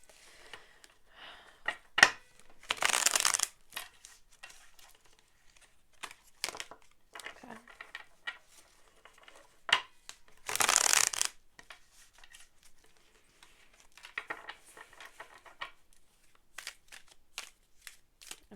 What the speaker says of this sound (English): This deck is just so hard for me to shuffle.